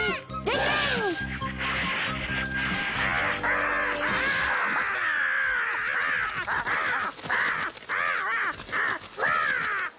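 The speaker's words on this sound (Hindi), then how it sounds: "वही कौवा है ना जो तुम्हें काफी देर से परेशान कर रहा था?" A crow in a Hindi-dubbed Ninja Hattori cartoon caws loudly and harshly over and over, in a rapid run of rasping calls that fills the whole stretch.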